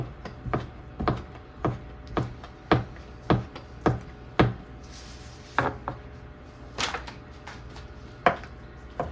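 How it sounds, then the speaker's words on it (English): A knife chops chicken into small pieces on a cutting board in a home kitchen, with about fifteen crisp, close taps at an uneven, steady pace and faint handling noises between strokes. "You don't have to cut your chicken up as small as I do, but that's how I like it."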